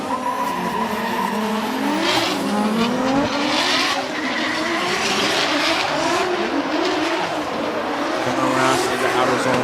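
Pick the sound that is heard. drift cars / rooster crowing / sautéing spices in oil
drift cars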